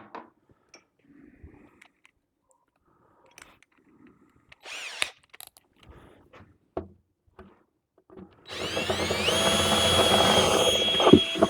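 Scattered small handling clicks and taps, then a power drill whirs up loudly and keeps spinning steadily as it bores through material.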